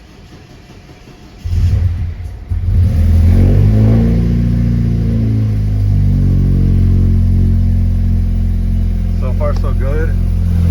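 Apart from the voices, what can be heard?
BMW F30 328i N20 engine with loose wastegate rattle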